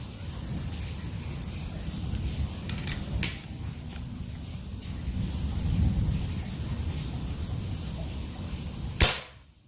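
A sharp crack of a PCP air rifle shot near the end, from a folding rifle at 3500 psi with a 30 cm seamless barrel during target shooting, with a fainter snap earlier, over a steady hiss of background noise.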